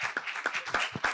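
Audience applause for a speaker at a business event: a modest scattering of hand claps in an uneven rhythm, fairly faint and distant, with no talking over it.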